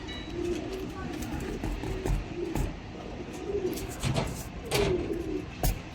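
Pigeons coo in soft, repeated low calls amid steady background noise, with a few faint clicks and taps.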